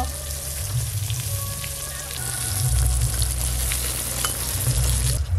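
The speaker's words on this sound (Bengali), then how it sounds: "একদম নরম বেগুন তো, এপিট ওপিট উল্টে পাল্টেই ভেজে নিলাম" Large, soft eggplant slices sizzle steadily in hot oil in a pan, a continuous crackling fry with a low rumbling background, no talk.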